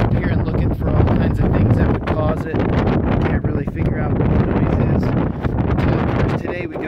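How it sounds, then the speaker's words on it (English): Steady 25 mph wind buffets a rooftop microphone, a dense, continuous roar with gusty rustling swells throughout, loud and close with no pauses. "today we've got a pretty steady 25 mile an hour wind"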